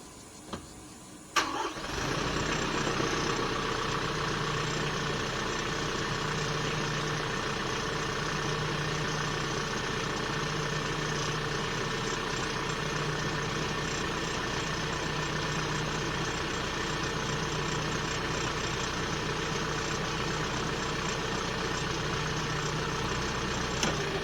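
A tractor engine idles steadily throughout, a continuous low mechanical drone with a constant hum, loud and close after a brief clunk at the start, with no talking.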